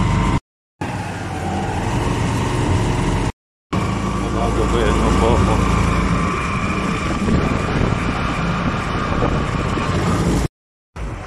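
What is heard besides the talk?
tricycle engine running during ride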